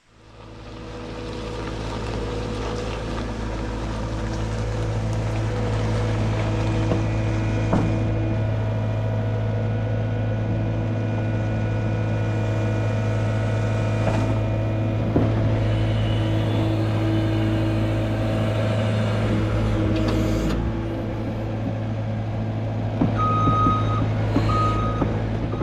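Compact tractor with a grading attachment working a gravel driveway, a steady low engine rumble that carries throughout, with reversing beeps chiming briefly near the end.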